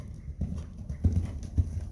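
A horse cantering over canter poles during ground pole and cavaletti exercises: a few soft, muffled hoof thuds in an uneven canter rhythm, fairly faint and at a distance.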